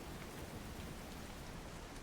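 Steady rain hisses as a dense, even wash of drops for a tabletop RPG session, with no breaks, no voices and no distinct individual sounds.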